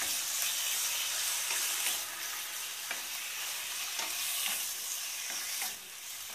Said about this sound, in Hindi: अच्छे से मिक्स करेंगे इसको।